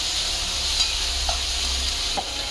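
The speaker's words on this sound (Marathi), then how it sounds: "आता हा कांदा आपल्याला थोडासा परतून घ्यायचा आहे म्हणजे थोडा ब्राऊन कलर आला पाहिजे त्याला." Chopped onion sizzles and fries in hot oil in a pan, giving a steady, close hiss with occasional stirring scrapes, and no voices over it.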